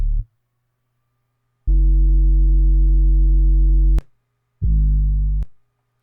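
Deep sustained 808 bass tones, three notes in a row with short gaps, loud and booming with a smooth, humming sustain.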